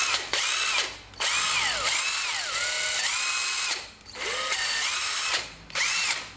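A Ryobi cordless impact driver whirs in close bursts, revving up and winding down several times with brief pauses between runs.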